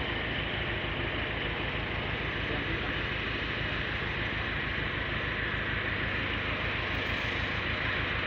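A tractor engine runs beside an overflowing road drain, a loud steady close-up chugging drone with rapid regular pulses that holds unbroken throughout, talk faintly under it.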